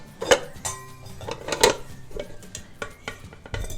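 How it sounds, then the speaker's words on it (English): Hot strained potatoes tipped into a bowl for whipped mashed potatoes, with a few sharp clatters and knocks of utensil against the bowl amid quieter scraping, close and without talk. "Our potatoes are strained, and what I'm gonna do is I'm gonna add it to this bowl."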